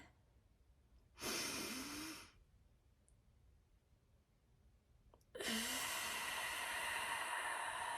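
Two slow, relaxed breaths close to the mic, a soft airy inhale of about a second followed after a pause by a longer, fuller exhale that continues to the end.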